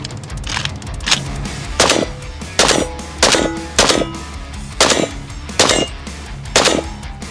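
Close, loud gunshots from an AK-47 and PPSh-41 hybrid rifle fired outdoors, about eleven sharp reports in uneven single shots and quick pairs spread over several seconds, with no talking.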